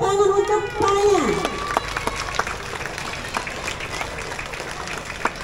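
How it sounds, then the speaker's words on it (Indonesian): Applause from an audience at a school flag ceremony for Teachers' Day, steady clapping running through the clip after a voice with music-like tones fades out in the opening second. "Tepuk tangan untuk Pak-nya"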